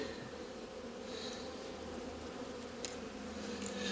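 Honey bees buzzing around a hive made of polyurethane foam, a steady dense hum of many insects close by, with no talking.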